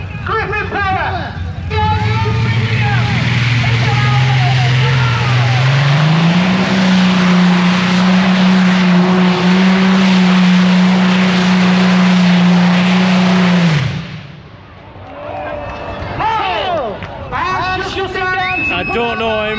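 Two Griffon V12 aircraft engines taken from a Shackleton, each around 3,000 horsepower, roar loudly at a steady drone that rises in pitch and then cuts off abruptly, followed by a crowd's babble and voices.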